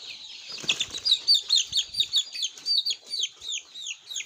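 Broiler and layer chicks about five weeks old cluck and chirp in a rapid, steady run of calls, with a brief burst of wing flapping near the start, close and fairly loud.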